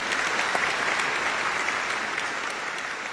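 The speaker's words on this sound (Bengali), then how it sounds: "এখানে একটা হাততালি তো হচ্ছেই" An audience fills the room with a steady wash of many hands clapping, even and sustained at a moderate level throughout.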